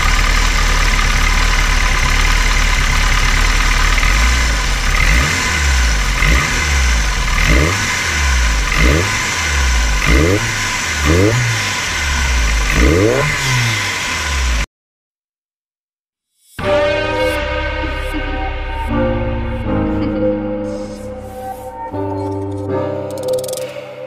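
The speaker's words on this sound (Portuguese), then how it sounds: "hoje tá aí, andando com o carro turbo e andando com o carro com a suspensão a ar" Turbocharged VW Golf MK3 on air suspension runs loudly nearby, idling, then rising through a series of repeated revs that climb and fall, before a short silence and a different, tonal section with the engine still audible.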